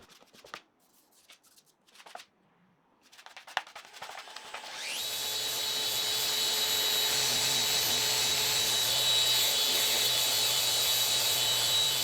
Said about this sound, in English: I'll give it a very light sand just to remove the raised grain